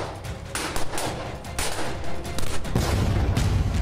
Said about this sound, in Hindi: एक YouTube वीडियो बनाने वाला आग लगाकर गुब्बारों को फोड़ने वाला है